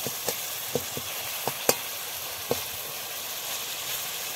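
Tomato and mustard green-chilli paste masala frying in a pan, a steady soft sizzle with a few light clicks of stirring scattered across it, fairly quiet and close.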